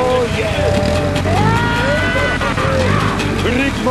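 An off-road vehicle's engine roars steadily on an expedition drive in Ukraine, loud and continuous with revving swells, while people talk and sing over it.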